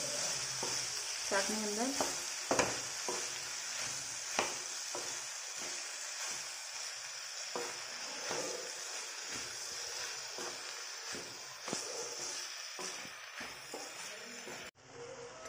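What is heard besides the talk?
stirring onions and potatoes frying in a pan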